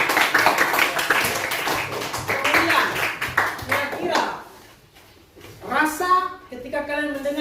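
Students in a classroom break into a burst of rapid group clapping that fades out after a few seconds, followed by a teacher's voice talking nearby.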